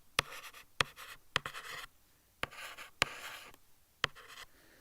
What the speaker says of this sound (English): we need to write here range